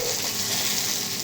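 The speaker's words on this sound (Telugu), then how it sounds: "ఫస్ట్ పండుమిర్చి వేసుకొని ఆయిల్లో బాగా ఫ్రై కొంచెం మగ్గించుకోవాలి." Red chilies frying in hot oil in a pan for a tomato chutney, giving a continuous dense sizzle and bubbling hiss at close range with no voices.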